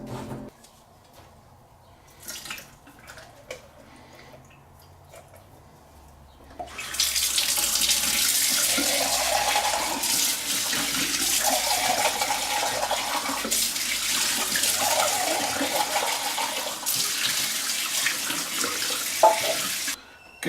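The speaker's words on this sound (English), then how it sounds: "open up my beans, get those drained and rinsed." Tap water runs into a kitchen sink to rinse drained canned black beans, a steady close hiss and splash that starts after several seconds of quiet handling and carries on to the end.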